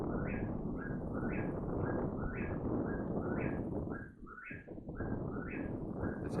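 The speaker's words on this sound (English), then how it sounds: "It's some kind of bird." An outdoor bird calls in a steady, repeating pattern of short rising notes, about ten calls over several seconds, clear above a dense bed of wind and outdoor noise.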